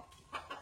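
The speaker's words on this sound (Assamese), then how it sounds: "আহি গ'ল মুৰ্গী" A chicken in a village setting gives two faint, brief clucks, heard quietly with little else around them.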